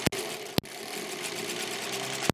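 A sewing machine stitches quilt blocks in one steady, close mechanical hum, broken by a few sharp clicks at the start and end.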